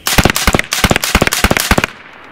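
A BIN TAC S45 semi-automatic air rifle fires a rapid string of about a dozen sharp, loud cracks in quick succession with slight metallic action clatter, then stops abruptly.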